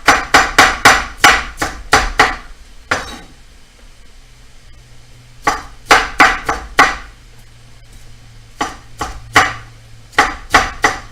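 Knife slicing bell pepper into half-inch strips on a cutting board, sharp rhythmic chops in quick bursts of six to eight strokes separated by short pauses, close and loud.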